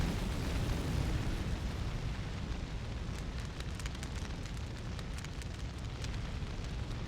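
A raging fire in the Breath of Fire IV video game roars as a steady, dense rumble with crackling pops, loud and continuous throughout.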